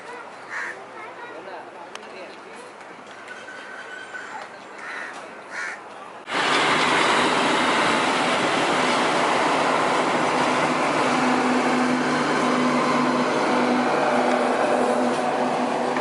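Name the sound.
passenger train passing, bound for Mumbai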